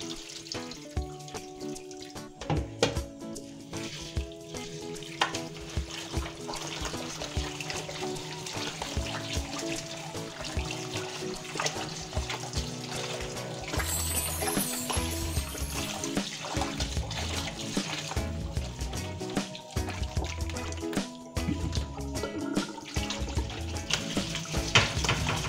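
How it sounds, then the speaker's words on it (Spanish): Beef tripe is rinsed under a running kitchen tap, giving a steady rush of water with splashing and gurgling for the whole stretch, with no voices. "Ahora retiraremos el agua y vamos a enjuagar muy bien la pancita."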